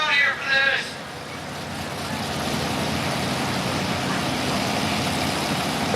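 Tough trucks roaring off the starting line at a dirt track race, a loud, rising engine drone that builds and holds, with a voice briefly heard at the start.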